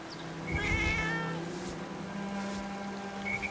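A video game cat gives a short, bright meow near the start, up close and clear, followed by a soft chime-like tail with no talking over it.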